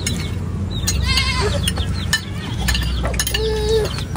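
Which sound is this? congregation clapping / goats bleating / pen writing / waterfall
goats bleating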